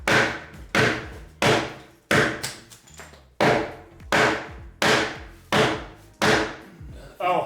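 Sharp wooden knocks from a hammer striking a wooden block, about ten evenly spaced blows, each loud and close with a short ringing decay.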